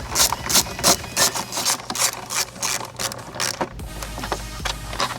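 A 10mm socket wrench ratchets quickly in rhythmic clicking bursts while loosening engine cover bolts on a Jeep Wrangler JL 2.0L turbo, close and loud, then gives way to softer rubbing and handling noises.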